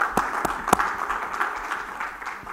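Church congregation applauding during a sermon, a brief burst of clapping with several sharp claps standing out over a dense steady patter, fairly close and alone without speech.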